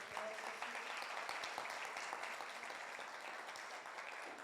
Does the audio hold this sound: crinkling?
no